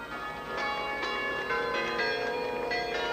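Nine large bronze bells of about 4,300 pounds ring together at a circus parade, a sustained, layered peal with bright overlapping strikes every half second or so and a continuous ringing hum.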